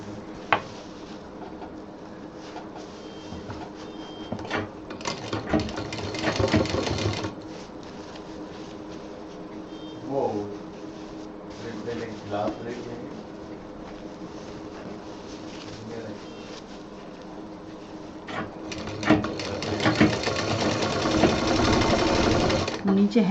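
A sewing machine stitches a handbag handle loop, running in several bursts of buzzing stitching with pauses, handling clicks and thumps between runs and a longer loud run at the end.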